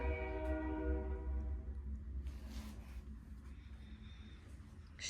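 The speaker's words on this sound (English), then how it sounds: "You hear the train?" Passing train in Lebanon, Tennessee, heard from inside an antiques shop: a sustained multi-tone horn blast at moderate distance, then a lingering rumble as it fades.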